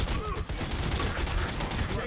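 Gunfire in The Godfather 2 video game rattles off as a dense, continuous burst of rapid shots, fairly faint and steady for about two seconds.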